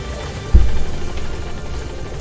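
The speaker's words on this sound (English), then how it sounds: "The support helicopter has arrived." The support helicopter arrives in Metal Gear Solid V: The Phantom Pain with a steady, loud, low rotor throb that begins with a sudden thump and holds a constant drone.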